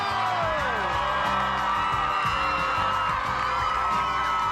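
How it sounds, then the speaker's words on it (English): Large crowd of thousands cheering and whooping at a home-makeover reveal as guests step out of a limo, a steady loud roar with scattered shouts and whistles, with music underneath. "Crowds of people cheering for us."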